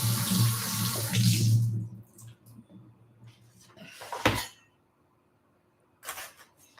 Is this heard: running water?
yes